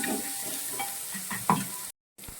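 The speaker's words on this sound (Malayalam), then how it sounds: "അപ്പം നമ്മൾ അതും കൂടി ചേർത്ത് ഒന്ന് വഴറ്റുവാണ്" Chicken curry masala with pepper and fennel powder being sautéed in a pan, a quiet steady sizzle with scraping stirs and a louder clack near the end, then a brief silence.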